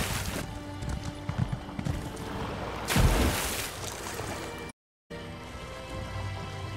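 Horse hooves clip-clop on the ground in the game The Elder Scrolls Online, a quick run of light thuds over soft rain-like ambience, followed by a louder burst and a brief dropout.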